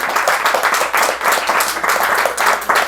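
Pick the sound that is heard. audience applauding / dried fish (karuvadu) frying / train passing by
audience applauding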